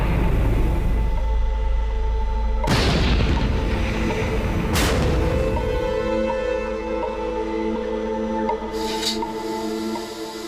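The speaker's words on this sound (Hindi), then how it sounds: "उसके बाद वो वेपन को फायर करेंगे" An army tank's main weapon fires two loud, heavy booms in quick succession, each a broad blast with a rumbling tail, followed by a fainter third report over steady low engine drone.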